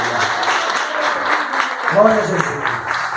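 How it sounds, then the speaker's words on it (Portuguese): A church congregation applauds in a dense, steady wash beneath a loud preacher's voice, which carries on over the clapping throughout. "Então aplaude esse Deus maravilhoso."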